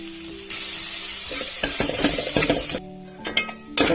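Small tomatoes, with coriander powder and salt, sizzle in a pan for veg dalcha while a spoon stirs and scrapes against the metal in quick irregular clinks, close and fairly soft.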